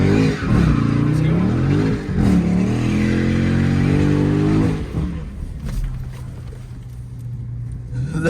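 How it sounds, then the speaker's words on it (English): A Dodge Charger SRT Widebody Scat Pack launching at full throttle: a loud, close V8 roar climbs steeply through the revs, then drops off into a lower, quieter engine rumble. "put your foot on the brake, is pretty tough, and apply full throttle as well"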